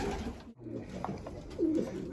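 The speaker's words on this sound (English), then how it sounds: "So these are all the Frank K pigeons" Racing pigeons cooing in a breeding loft, several soft low coos from nearby birds with faint rustling and shuffling between calls.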